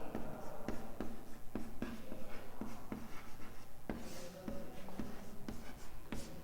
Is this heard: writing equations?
yes